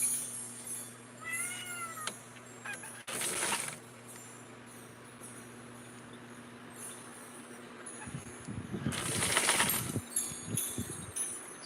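A Sphynx cat meows indoors during a sewing session, a few short faint cries early on, then scattered clatter and a louder burst of rattling noise near the end, with no speech.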